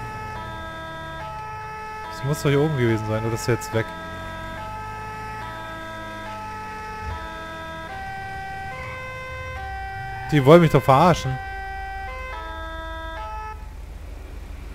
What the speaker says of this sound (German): Ihr habt doch auch gehört, dass hier oben gerade eine Sirene war.